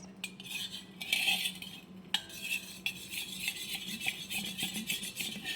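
A spoon stirring about a cup of yogurt in a bowl, giving repeated scraping and clinking against the sides in an uneven rhythm, close and fairly quiet, with no talking.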